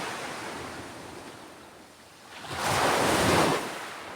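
Sea waves wash onto a beach with steady surf and wind noise, swelling into a louder, close breaking wave midway before easing back; no voices.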